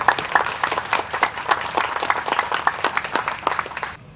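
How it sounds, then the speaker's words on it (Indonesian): An audience claps steadily at an art exhibition opening, a dense close burst of applause that holds for several seconds before cutting off. "Mungkin kita berikan aplaus dulu"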